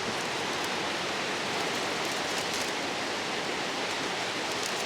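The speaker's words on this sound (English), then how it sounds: "That's the Great British Rain you can hear in the background" Heavy British rain pours down in a steady, dense hiss that fills the background without a break, loud and even, with no talking over it.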